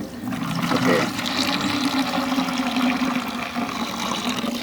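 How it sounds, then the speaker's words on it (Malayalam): Water poured into a container holding a fungicide mix for cardamom plants, a steady, fairly loud splashing fill running throughout with no pause. "ഇതിൻ്റെ അകത്തേക്ക് വെള്ളം ഒഴിക്കുകയാണ്."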